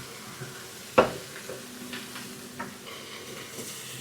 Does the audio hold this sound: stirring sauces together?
yes